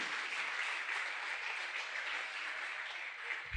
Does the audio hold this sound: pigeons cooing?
no